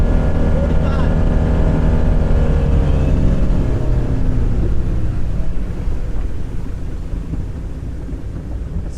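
A 2013 Bayliner 195 motorboat with a Mercruiser 4.3 engine runs at full throttle, a loud steady engine drone with rushing water and wind noise close by, continuous through the whole stretch, with a voice talking over it.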